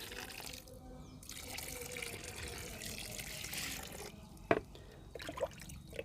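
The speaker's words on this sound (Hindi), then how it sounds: "ये पानी धीरे धीरे करके हम डाल देंगे।" Water poured slowly from a bucket, a soft steady trickle and splash heard close, with a couple of sharper drips and clinks toward the end and a voice talking at times.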